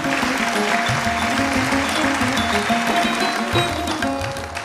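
A studio audience applauding in honour of a classical music maestro, steady dense clapping that carries on throughout before easing slightly at the end.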